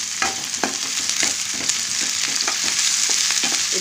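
Mutton fries with ginger and garlic paste in a pan, a dense, constant sizzle close up with scattered utensil scrapes and taps as the meat is stirred, no voices.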